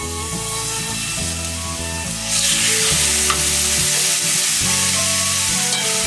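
Two chicken pieces searing in a hot pan, a strong steady sizzle that swells louder as the second piece goes in, over background music.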